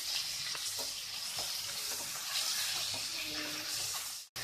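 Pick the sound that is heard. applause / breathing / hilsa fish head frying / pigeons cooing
hilsa fish head frying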